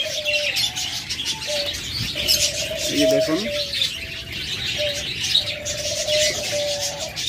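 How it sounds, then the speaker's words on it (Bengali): Dense chorus of Java sparrows chirping and calling inside a crowded aviary colony, steady overlapping tweets with occasional soft coos, under a voice speaking briefly. "হিউজ পরিমাণ জাবা পাখি রয়েছে, হিউজ পরিমাণ, অসংখ্য পরিমাণ জাবা পাখি রয়েছে।"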